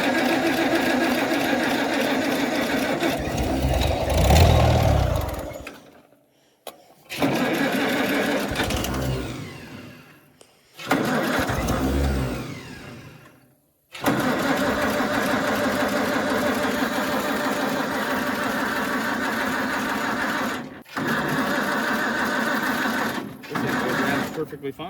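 A Farmall Cub tractor engine runs with a steady, fast mechanical chatter through most of the stretch, briefly cutting out twice near the start before running on continuously; people talk over it.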